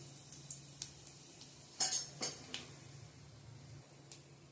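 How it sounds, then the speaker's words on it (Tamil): Fennel seeds and a cinnamon stick crackle and pop in hot oil in a kadai for prawn thokku, a faint low sizzle broken by a few sharp, close ticks and clinks. "எறா தொக்குக்கு கொஞ்சோண்டு சோம்பு ஒரே ஒரு பட்டையும் போட்டு தாளிச்சுக்கிறேன்"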